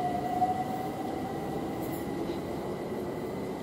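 A London Overground Class 378 electric train pulling out of a station: a steady, loud rumble of wheels and motors with a faint high whine that rises, heard close with no voices.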